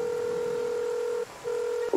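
In the Dave the Diver video game, a phone call rings out as a steady electronic tone, held for over a second, broken by a brief gap, then resuming, with no voices.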